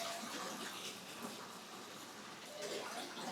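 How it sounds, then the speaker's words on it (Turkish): Water pours steadily from the mosque section of the Somuncu Baba tomb complex in Darende into an outdoor fish pool. It makes a continuous, even rush and splash, moderately close, with no talking. "Oradan da gördüğünüz gibi dışarıya balıklı havuza dökülüyor."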